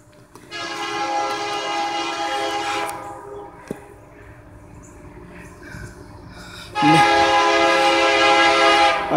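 A train horn blasts loudly and up close in two long sustained blows, with the rumble of the passing train running steadily between and beneath them.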